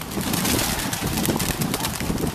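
Racing pigeons in two groups coo and flutter in a steady, fairly loud chorus before a training release toward Volcano Island, with no talk over them.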